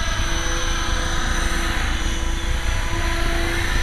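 A 450-size radio-controlled helicopter flying nearby, giving a constant high motor whine over a broad rotor hiss at an even, fairly loud level with no voices.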